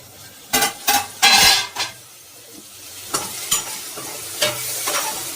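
Onions frying in a pan, cooking toward golden brown for an aloo fry, with intermittent stirring scrapes and clinks of a utensil against the pan over a low sizzle.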